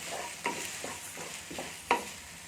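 Chettinad kadamba chutney ingredients are stirred in a pan, a soft continuous sizzle broken by a few spoon scrapes and two brief sharper clinks, close and quiet.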